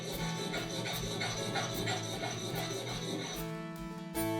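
A file rasps back and forth in short, rhythmic strokes while deepening a string slot in the nut of a dulcimer, close and fairly loud, ending with a few scraping clicks.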